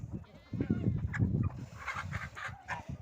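Several chickens cluck and squawk close by in a busy farmyard, short overlapping calls over a low background rumble.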